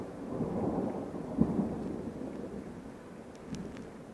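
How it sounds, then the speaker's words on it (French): Deep, rolling thunder from a violent, highly electric thunderstorm south of Carpentras, a continuous low rumble swelling and fading for several seconds, fairly distant and without voices. "Un orage assez électrique est en train de se développer au sud de Carpentras."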